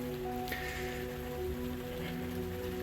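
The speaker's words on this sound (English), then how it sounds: "If you hear, there's rain now, flooding everywhere" Rain falls on an outdoor haunted pirate ship Halloween display, a faint, even patter spread over a constant low mechanical hum that sits steadily underneath. It is quiet and distant throughout, with no speech.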